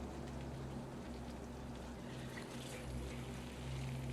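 Air spurts and hisses from a raised-bed garden irrigation system as it pressurizes, a steady, fairly quiet watery spray with a low hum underneath.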